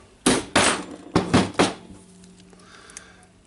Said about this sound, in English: Now I will use my lovely hammer.